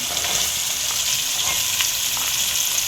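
Beans sizzle and fry steadily in hot oil for bisibele bath, a bright, even crackle close by with no talking.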